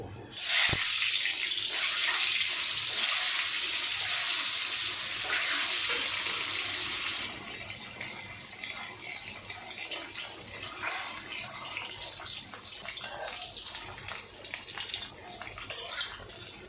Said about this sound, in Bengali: দেখো আমার তেলটা গরম হয়ে গেছে এবার আমি ডিমগুলো ভেজে নেব